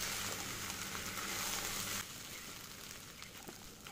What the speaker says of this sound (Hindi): गैस कम कर देंगे और इसको हल्के हाथों से मिक्स करेंगे।